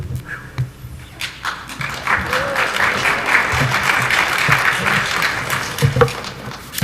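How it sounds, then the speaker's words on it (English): A church congregation at a Sunday service breaks into sustained applause, a dense wash of clapping that swells and holds for several seconds before tapering off. "That applause makes me breathe easier."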